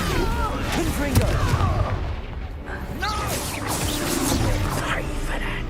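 Fire-spell blasts in Hogwarts Legacy, a dense run of booming, crackling magical impacts and whooshes continuing throughout, mixed with game music and effects, loud and close.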